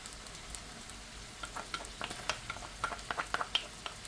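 Tomato paste sizzling in a pan as it cooks for an olive-oil fava bean dish, a soft steady fry with scattered louder pops and crackles near the end, quiet and close with no talking.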